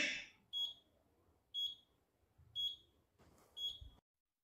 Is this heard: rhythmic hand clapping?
no